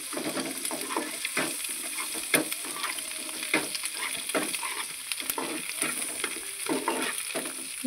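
Eggs frying with a little salt in a pan, giving a steady soft sizzle with repeated light stirring scrapes, close and moderately quiet.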